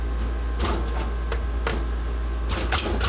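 A Lee Loadmaster reloading press with an automatic shell feeder runs in close, loud bursts of clacking and sliding mechanical movement, several distinct strokes over a few seconds.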